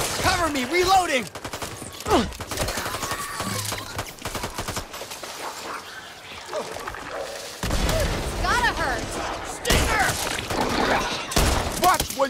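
Heavy gunfire in the zombie shooter Back 4 Blood, with dense bursts of rapid shots, booming blasts and clattering impacts running almost without pause, loud and close, while players talk over the action.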